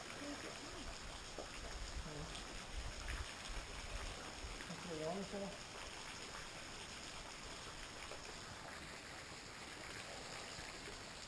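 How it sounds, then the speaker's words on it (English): A waterfall at Red River Gorge gives a steady broadband rush of falling water, constant and moderately distant, with people talking briefly over it early on. "Nice waterfall."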